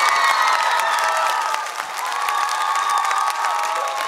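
A TV show studio audience applauding and cheering on a karaoke talent show, a dense, loud, sustained wash of clapping with a few whoops, continuous across the whole stretch.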